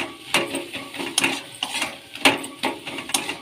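A spatula scraping and stirring jackfruit seed curry in a pan, a series of sharp metallic scrapes and clinks at an uneven rhythm, close and fairly loud with no talk.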